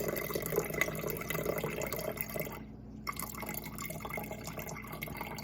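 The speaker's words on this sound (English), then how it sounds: "I'm just gonna pour that buttermilk off." Buttermilk poured off freshly churned butter through a funnel into a jar, a steady close trickle and splash of liquid running for several seconds with a brief dip partway through.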